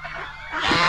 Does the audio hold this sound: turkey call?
yes